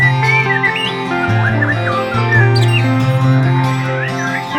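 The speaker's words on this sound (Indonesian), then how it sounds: "Kalau untuk kicauan mungkin sama, Mas, antara murai batu panda dengan murai batu biasa." A white-rumped shama (murai batu) sings loudly and close, a rich run of varied whistled phrases, chirps and trills over a steady low background hum.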